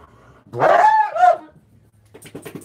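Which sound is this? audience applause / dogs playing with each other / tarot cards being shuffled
dogs playing with each other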